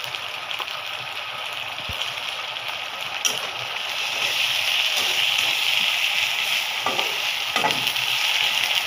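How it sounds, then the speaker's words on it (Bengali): Ginger garlic paste spatters in hot oil among frying onions while cooking an egg curry. A dense, continuous close sizzle grows slightly louder midway, marked by a few sharp pops and crackles. "আদা রসুনটা ছিটে এর জন্য পেঁয়াজ দিয়ে ঢেকে দিলাম। এখনো ছিটতেছে"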